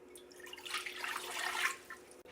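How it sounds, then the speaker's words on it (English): Two cups of water pour into a pan for an easy chicken dinner, a soft, close splashing trickle that builds gradually and peaks just before stopping, with a faint steady hum underneath. "2 cups of water."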